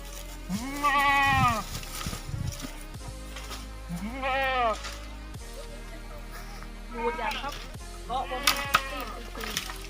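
Several goats bleat on a goat farm in Phanom Dong Rak, Surin, with loud wavering cries coming in repeated bursts close by, spaced with short pauses.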